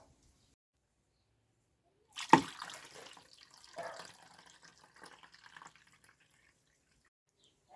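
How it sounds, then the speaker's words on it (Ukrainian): Syrup is poured over elderflower blossoms packed in a jar to make elderflower champagne, a short close liquid splash and trickle that fades into faint drips amid otherwise quiet surroundings. "і потім виливаємо наш сироп"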